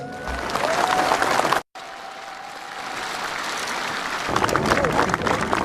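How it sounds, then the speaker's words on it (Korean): An audience applauds for President Roh Moo-hyun, dense sustained clapping that cuts out for an instant and then swells louder near the end. "지난 5년간 수고하신 노무현 대통령께 여러분 박수로 한번 격려해 주시기 바랍니다"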